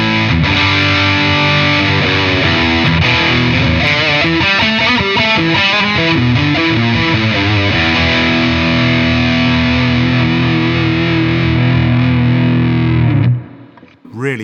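A loud, distorted electric guitar lead tone played through a Laney Loudpedal with the boost engaged, with fast melodic runs that give way to held sustaining notes, ending abruptly.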